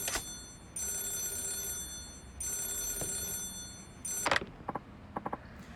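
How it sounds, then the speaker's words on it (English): An old rotary telephone in a 1980s-era game setting rings with a metallic bell trill in repeated bursts, with clicks and a handset pickup rattle toward the end, fairly close. "An old rotary phone."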